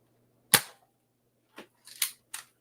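A Nerf Buccaneer blaster fires several shots: one sharp, loud crack, then a pause and three quicker snapping shots close together, with quiet gaps between them.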